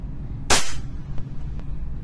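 An EMG STI airsoft pistol fitted with a JW3 Island barrel fires one sharp, loud crack, followed by faint quieter ticks in a small indoor space.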